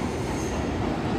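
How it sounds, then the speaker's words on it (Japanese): A freight train rumbles past close by on the Kagoshima Main Line in Japan, a dense steady roar of wheels and rail noise filling the short stretch without a break. "貨物列車もついでに一発撮りましょう。"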